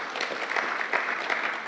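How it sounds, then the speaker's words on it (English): Audience at a gathering clapping for a named woman, a short burst of many hands in a steady, even patter, moderately distant and without voices. "Mukomoni J. Osero, please clap for her."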